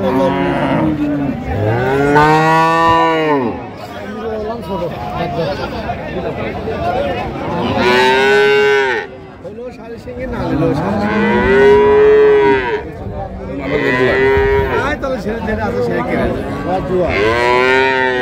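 Dairy cows and calves moo loudly again and again at a livestock market in Raniganj, Dinajpur, long drawn-out calls overlapping, with people talking and crowd chatter underneath.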